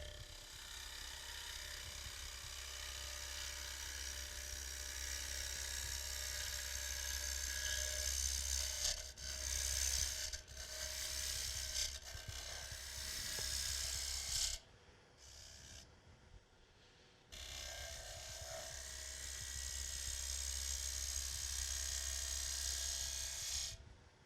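Woodturning lathe tool shearing across a spinning wooden platter, giving a steady, fairly quiet hissing cut with a low motor hum underneath that breaks off briefly a couple of times before resuming.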